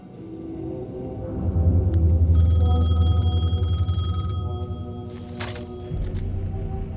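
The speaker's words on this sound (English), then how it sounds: "phone was ringing. Somehow I knew the call was for me." A phone ringing in the video game Alan Wake II, steady electronic rings from about two seconds in, set over a low droning rumble of game ambience with no talking.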